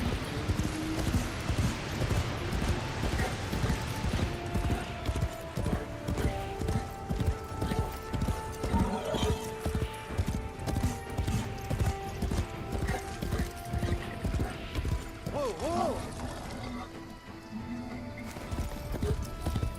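Video game horse hooves clip-clop in a steady, fast galloping rhythm throughout, loud and continuous, with a brief whinny near the end over a background game soundtrack in Destiny 2.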